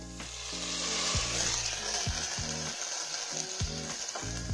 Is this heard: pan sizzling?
yes